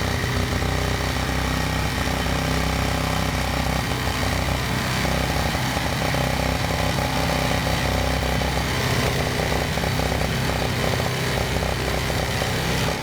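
A UTV-mounted Rammy snowblower churns through deep snow about 16 inches thick, giving a steady, loud, buzzing mechanical roar that holds without pause from start to finish, with no voices over it.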